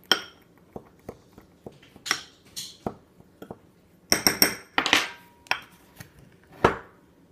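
A utensil knocks and scrapes around a bowl while bath bomb mixture is stirred, making a string of irregular clinks and taps, some in quick bursts, close and fairly clear with no talking.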